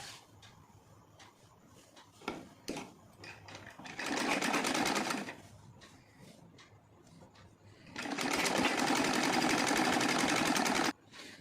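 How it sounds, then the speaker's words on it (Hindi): Sewing machine stitching lining onto heavy silk saree fabric, two sustained close runs separated by quieter handling and clicks. "इस तरीके से मैं मेन फैब्रिक के ऊपर अस्तर रख लूँगी और उसके ऊपर सिलाई करते जाऊँगी।"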